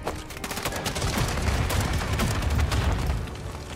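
Rapid gunfire in the Call of Duty DMZ video game, a dense sustained barrage of shots with booming low-end impacts, loud and continuous throughout with no talking.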